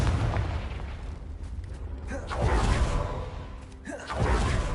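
Confringo spell blasts in the Hogwarts Legacy video game, heard as several booming bursts and whooshes over a rumbling battle background.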